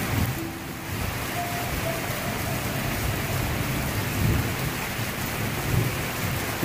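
Heavy rain pours steadily over a garden, with low rumbling thunder rolling underneath, a broad constant wash of sound with no voices.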